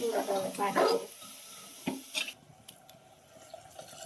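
Water splashes and sloshes as moth beans are rinsed in hot water in a vessel, with clinks and a dripping, running-water hiss; no speech.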